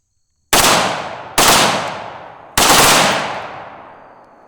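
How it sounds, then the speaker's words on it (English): Three loud, sharp rifle blasts from a Bushmaster ACR being bump fired, spaced unevenly and close by, each ringing out with a long decaying echo. "a little bit of a classic bump fire in action here"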